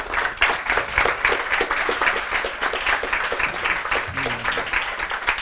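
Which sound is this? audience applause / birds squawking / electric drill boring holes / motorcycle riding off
audience applause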